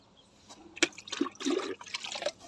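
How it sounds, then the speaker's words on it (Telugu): Water is poured from a measured container onto potted plants in an organic home garden, giving an irregular splashing and trickling into soil, fairly quiet and close, with a brief knock at the start. "మనం వాటర్ని ఇద్దాము."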